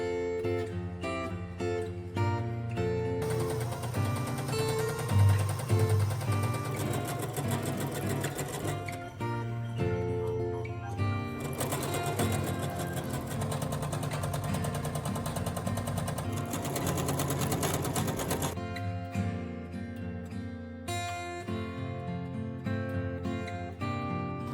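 A sewing machine piecing a Christmas quilt runs in rapid mechanical stitching bursts of varying length, close and steady, with pauses between seams and no talk.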